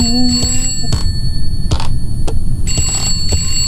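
A telephone rings in the indie horror video game Contemp, with several repeated trilling bursts of ringing over a steady, droning game ambience and no talk.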